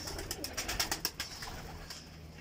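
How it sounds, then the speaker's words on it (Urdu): Pigeons of the parwana teddy breed, a large bird among a male and female, give a brief run of soft cooing pulses near the start, then settle into quiet background noise. "ماشاء اللہ یہ بڑا کبوتر ہے"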